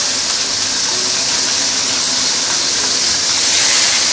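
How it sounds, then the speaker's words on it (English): Fish frying on high heat in a hot oiled pan, giving a steady, loud, hissing sizzle that holds unbroken from start to finish with no voices. "we can now actually pan fry our"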